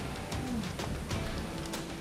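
Pigeons or doves coo softly outdoors, a few low, muffled calls over faint background ambience, rather quiet and somewhat distant.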